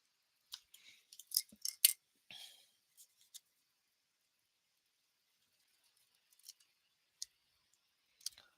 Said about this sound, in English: I need to cut this.